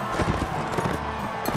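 A horse clip-clops in the medieval combat game Mount & Blade: Warband, with a quick, steady run of hoofbeats close up over a dense game background.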